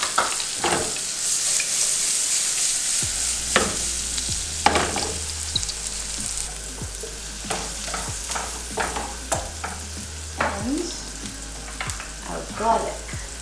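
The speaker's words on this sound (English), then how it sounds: "We're gonna add our onions. Add a couple of onions." Onions fry in browning butter in a pan, giving a constant bright sizzle that runs throughout, broken by repeated clinks and scrapes of stirring utensils close by.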